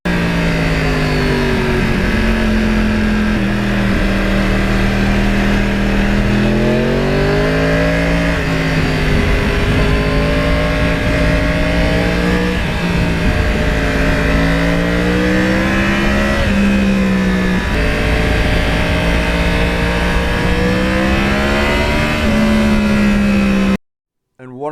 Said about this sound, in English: One of the things I came to really appreciate early on was the sound of the Crossplane.